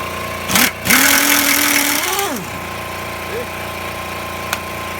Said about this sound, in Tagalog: Central compressor.